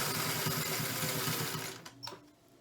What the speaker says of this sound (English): I know you won't be able to hear me when I'm sewing